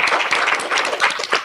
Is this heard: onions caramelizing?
no